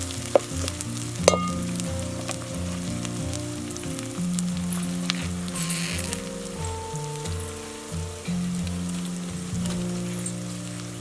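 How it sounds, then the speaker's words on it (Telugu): Onions and green chilies frying in a pan for a gongura egg curry, a steady close sizzle running throughout with occasional stirring clinks, no talking. "ఉల్లిపాయ పచ్చిమిర్చి వేసుకున్నాం కదండి, మంచిగా కొంచెం గోలాలి"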